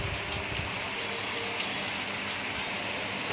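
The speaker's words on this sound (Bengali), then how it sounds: "আমার পায়ে বৃষ্টি পড়ছে।" Heavy monsoon rain pours down outside a window, a dense unbroken hiss of drops on surfaces that is loud and constant throughout, with no voices.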